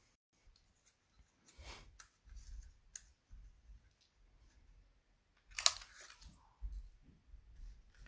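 Card stock and designer series paper being cut for handmade greeting cards, heard as scattered soft crunching snips and clicks, with one sharper crisp cut midway, all close and fairly quiet with no talking.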